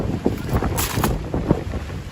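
Strong night wind gusts through the streets of Midtown Manhattan during a rainstorm, buffeting the microphone in steady loud rushes with sharper blasts and no talk.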